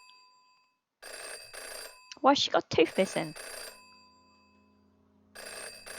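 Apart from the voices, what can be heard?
telephone ringing in video game Jenny LeClue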